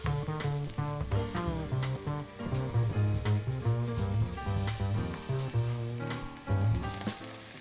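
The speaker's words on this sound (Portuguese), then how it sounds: "Agora nós vamos fazer o refogado para a nossa falsa bacalhoada. A gente vai começar com a cebola." Onion sizzling in a pan as the base of a refogado for a mock bacalhoada, a continuous close frying crackle with light stirring under a layer of background music, no talking.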